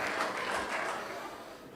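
Wedding reception audience clapping after a speech, a steady wash of moderate applause from a crowd at medium distance, fading slightly toward the end.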